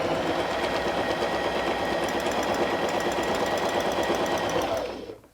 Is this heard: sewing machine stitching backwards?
yes